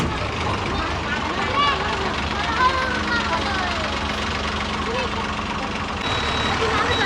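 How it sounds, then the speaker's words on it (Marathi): A car engine rumbles steadily as the vehicle pulls away on a night road during a road trip, a dense continuous drone that stays loud throughout with people talking over it. "तर आता इकडे गाडी निघाली आहे"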